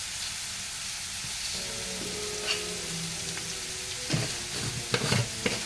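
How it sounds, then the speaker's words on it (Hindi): Onions with a little sugar browning in a frying pan, a steady hissing sizzle under a low background hum, with a cluster of utensil scrapes and stirring clatters toward the end, close but fairly quiet. "ब्राउन होने के लिए हम इसमें थोड़ा शुगर डालेंगे"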